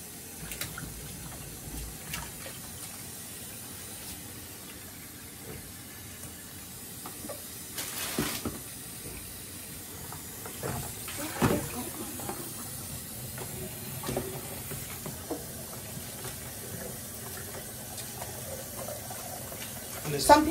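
Running water splashing and hissing steadily as grapes are rinsed under a tap, with occasional louder splashes and clatters.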